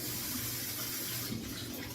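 Water from a tap runs steadily and continuously while soap is rinsed off a flat surface, a close, even wash of splashing flow with no talk.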